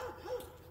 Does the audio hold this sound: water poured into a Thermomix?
no